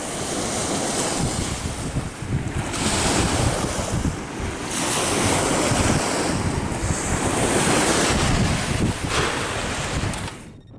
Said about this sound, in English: Woo, it's a little windy out here.